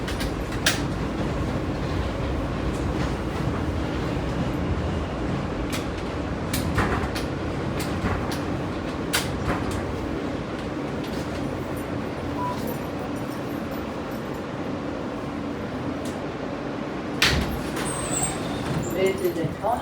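New York subway F train bound for Coney Island–Stillwell Avenue, running over the D line near 18th Avenue, rumbles steadily throughout with faint clicks and rattles, with a brief louder surge near the end.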